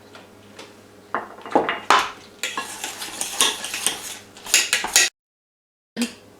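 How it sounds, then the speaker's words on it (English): Boiled potatoes are mashed in a bowl, heard as irregular close clinks, scrapes and soft squelches of the utensil against the bowl, followed by a short pause and one final scrape. "I just mashed my potatoes into the consistency that normal mashed potatoes would be"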